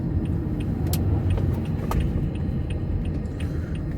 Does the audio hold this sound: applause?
no